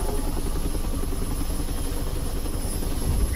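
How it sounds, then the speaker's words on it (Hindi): A helicopter in a video game drones steadily with a constant rotor and engine roar that stays at the same loudness throughout, with no talking. "यहाँ पे किसी चीज़ को हेलीकॉप्टर में डाल रहे हैं"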